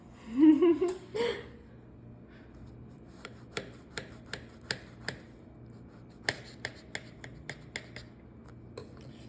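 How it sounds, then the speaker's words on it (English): A knife cuts into a cooked, stacked family dinner dish, giving a series of sharp, crisp clicks and crunches spaced irregularly, close and fairly quiet, after a brief burst of voices at the start. "let's cut it open"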